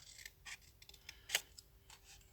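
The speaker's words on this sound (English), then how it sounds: "Cut that score line right out." Scissors snipping through a paper gift box along a score line, a few quiet crisp cuts with soft rubbing of paper between them, close and faint, no talking.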